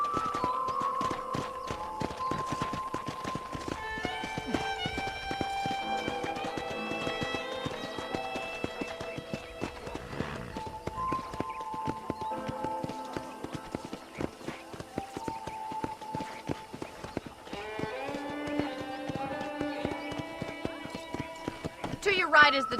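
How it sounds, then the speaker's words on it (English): Horse hooves in the video game Red Dead Redemption clip-clop in a steady walking rhythm, close and crisp, under melodic background music. "let's see if you can still ride a horse"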